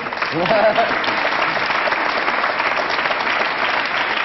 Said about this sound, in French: On applaudit Pierre.